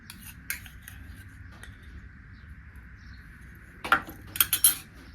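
A metal spoon scrapes and clinks against a bowl while curd is added to grated beetroot for a salad, with a few sharp close taps early on and a cluster of bright clinks near the end over quiet room noise.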